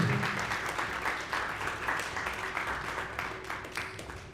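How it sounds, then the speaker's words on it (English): Audience applause welcoming a distinguished Mauritian financial figure at a VirtualPay headquarters event in Mauritius: steady, fairly dense clapping from a crowd, moderately loud and continuous throughout, with a faint low hum beneath. "a big round of applause, ladies and gentlemen"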